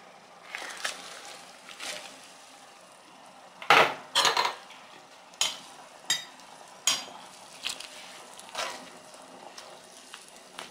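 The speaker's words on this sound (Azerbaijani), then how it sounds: "Yaxşı-yaxşı qarışdırıb." A spoon stirs a pot of green sorrel borscht, clinking and scraping against the metal in sharp, irregular knocks over a quiet, low kitchen background.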